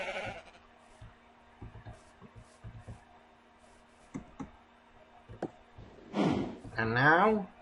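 Sheep from the Minecraft OreSpawn mod bleat in two loud wavering bursts near the end, after a stretch of quiet clicks and faint low thumps.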